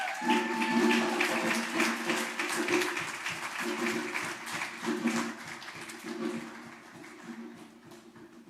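An audience at a Malcolm X Day celebration applauds steadily for several seconds, a moderate spread of claps that fades toward the end, with a low sustained tone and voices underneath.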